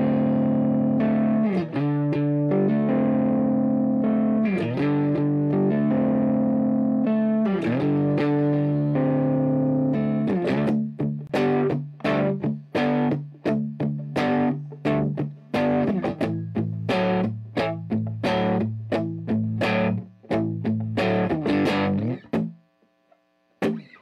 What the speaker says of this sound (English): We can also try using the vintage style fuzz that we had looked at earlier to play the same thing